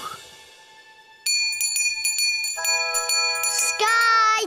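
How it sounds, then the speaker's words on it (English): A small hand bell rings in a children's cartoon, giving bright, sustained metallic tones that strike repeatedly in quick succession and grow louder toward the end, with no talking over it. "Bobo ring bell!"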